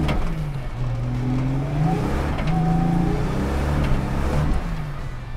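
A turbocharged car engine revs hard while the wheels lose traction, giving a loud, sustained roar that wavers in pitch as the throttle is fed in, close and steady throughout.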